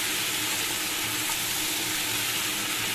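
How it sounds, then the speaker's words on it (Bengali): A vegetable fry with turmeric stirred in a hot pan, a steady close sizzle with scraping stirs and no talking. "ভালো করে নাড়াচাড়া করে নিচ্ছি"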